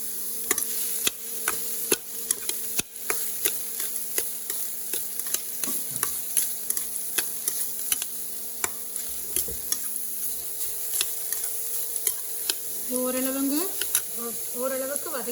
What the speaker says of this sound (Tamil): அதை நல்லா கொஞ்சம் பச்சை வாசனை போக வதக்கணும்.